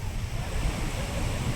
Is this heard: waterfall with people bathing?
yes